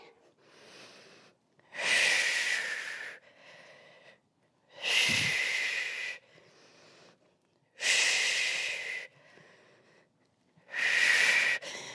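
Heavy rhythmic breathing during a core workout, four loud forceful exhales in a steady cycle every three seconds or so, with quieter inhales between them, close and alone.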